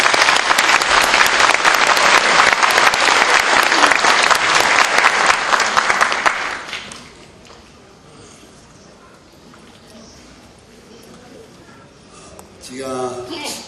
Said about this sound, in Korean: 제가 잘하라고 크게 박수로 제 인사를 바라겠습니다